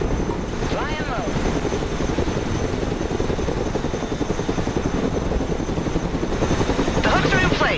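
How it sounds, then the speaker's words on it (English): A cargo helicopter flying low in the military game Broken Arrow, loud continuous rotor chopping with a fast beating rhythm and a steady whine, and brief swooping effects near the start and end. "Let's go and recover it with our helicopter."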